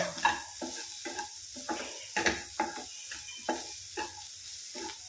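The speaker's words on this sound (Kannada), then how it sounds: "ಇದು ಸ್ವಲ್ಪ ಡ್ರೈಯಾಗಿ ಫ್ರೈ ಆಗಲಿ. ಫ್ರೈ ಆಗ್ತಾ ಇದೆ." Cauliflower masala with rasam powder fries dry in a pan, a close, steady sizzle broken by a series of scraping spoon strokes that come at a regular pace.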